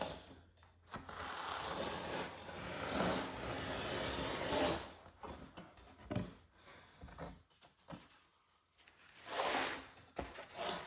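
Scissors or a blade cutting vinyl material for a truck interior refresh make soft, uneven rasping and rubbing strokes in bursts with short pauses, close and fairly quiet.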